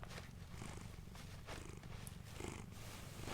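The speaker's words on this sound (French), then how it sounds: "je veux qu'on entende ronronner" Cat purring close up, a soft continuous low rumble pulsing in slow breaths, faint and alone.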